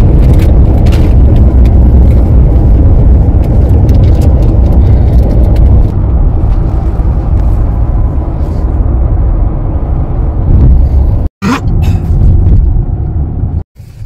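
Steady, loud road rumble inside a moving Toyota Alphard van in Japan, a continuous low hum and wind noise with two brief dropouts near the end, no talking.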